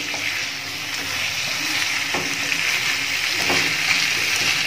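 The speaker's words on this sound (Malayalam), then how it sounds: "ഇത് നന്നായി മിക്സ് ചെയ്യാം." Chicken for a pardha biryani sizzles steadily in a pan while being mixed, with a couple of brief scraping stirs cutting through the constant close frying hiss.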